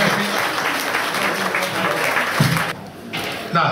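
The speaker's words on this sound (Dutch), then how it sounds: "Gefeliciteerd, jongens, applaus." Audience applause at a youth golf open prize ceremony, a steady, fairly close burst of clapping that briefly dips near the end before resuming.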